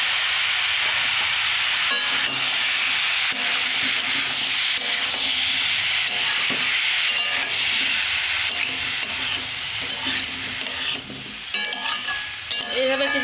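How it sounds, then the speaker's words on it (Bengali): Spinach stir-fried with pre-fried taro in a pan, a steady dense sizzle with scraping stirring strokes throughout, close and fairly loud, no voices. "এইভাবে কিছুক্ষণ কষে নেব"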